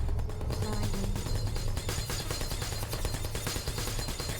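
Portal turrets spray bullets in rapid dense bursts in the video game Portal, a constant loud crackling barrage that runs unbroken throughout.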